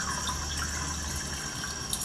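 Fresh Kangen alkaline water flows from a water ionizer machine in a steady, continuous hissing stream, close and even throughout.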